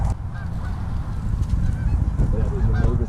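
A flock of geese honks continuously during a goose hunt outdoors, many overlapping calls at mid distance growing busier toward the end over wind and field noise.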